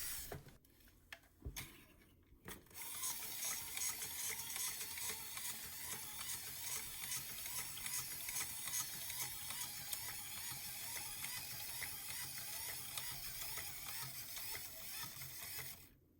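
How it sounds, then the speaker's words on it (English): A Disney Store Lenny the Binoculars wind-up toy figure cranked on its side, giving a close, continuous ratcheting clatter of small gears after a few brief clicks at the start, running steadily until the end. "wind him up on the right side of him, go backwards, do a couple more cranks"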